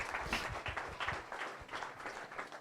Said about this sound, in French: Come on, put your hands together for the Amen.